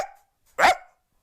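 A voice imitates a neighbourhood dog, giving a single loud, close bark after a brief faint lead-in sound.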